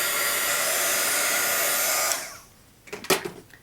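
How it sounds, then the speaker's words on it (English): A heat gun roars with a steady hiss while drying painted paper, then cuts off after about two seconds, followed by a few soft handling sounds. "my paper with my heat gun. I apologize for the noise"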